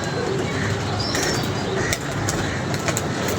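Pigeons coo and flutter nearby, soft calls and wing sounds mixed into a loud, busy outdoor background.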